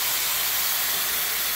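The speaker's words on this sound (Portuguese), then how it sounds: "Agora eu vou colocar a água." Hot water pours into a pot of rice cooking with calabresa sausage and saffron, a loud steady hiss and sizzle of water hitting the hot pan, alone and unbroken.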